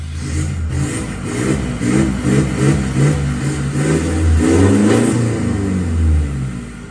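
A car engine with a modified exhaust revs repeatedly with a deep, throaty, loud exhaust note, rising and falling in bursts close by.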